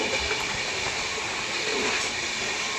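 Maharashtra Sampark Kranti Express rushing past alongside on the Prayagraj–Delhi line, a dense continuous roar and hiss of rolling wagons close by, with faint wheel rattle throughout.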